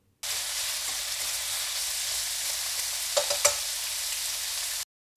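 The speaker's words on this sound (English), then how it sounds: "Now I'm going to add the onions. And we'll mix this around and cook it for about 1 minute or so." Onions stir-frying in a hot pan for Japanese yakisoba give a steady, loud sizzle, with a few stirring scrapes and clatters near the end and no talking.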